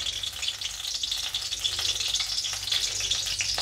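Cumin seeds sizzle in hot oil in a wok (kadhai) on a gas stove while tempering a Marathi curry base, a steady close crackling hiss that holds without talk.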